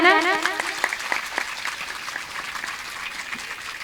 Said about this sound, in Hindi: एक बार जोरदार ताली बजाना